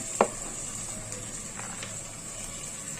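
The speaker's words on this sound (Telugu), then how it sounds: "కరివేపాకు, పుదీనా అన్ని వేసుకొని కాసేపు వేయించుకోండి" Onions, green chillies, potatoes, peas and carrots fry with curry leaves and mint in a pan, giving a soft, steady sizzle with a sharp utensil scrape near the start.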